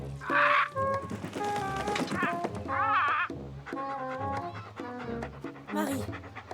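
A dog pants in an animated French cartoon: quick rhythmic breaths run through the scene alongside voice-like tonal sounds and a few sharp knocks.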